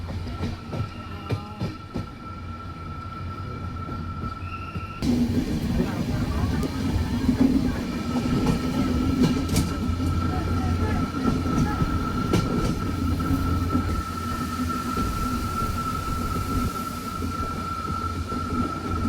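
A moving train on the route to Dudhsagar Falls in the rain rumbles loudly and continuously with rhythmic rattling of the carriages, growing heavier partway through, heard from inside.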